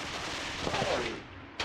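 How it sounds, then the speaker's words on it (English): Artillery fire rumbles in the video game Mius Front: a muffled, booming blast swells, then fades, with a sharper crack arriving near the end, all fairly faint and distant. "Enemy artillery fire is hitting Redkaya"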